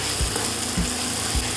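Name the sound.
onion, beans and carrot frying in a pan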